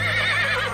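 A horse gives a short, close whinny with a wavering high pitch, heard alone for under a second in a horror story setting.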